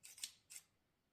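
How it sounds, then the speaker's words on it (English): Large fabric shears make two quick, close snips, a crisp blade-closing sound followed by a second cut, with quiet afterward and no talking. "Sometimes you have to use the giant scissors for snips."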